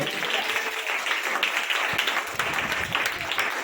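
A church congregation claps together during a New Year sermon, a dense, steady wash of hands that keeps going for several seconds at a moderate distance with no voice over it.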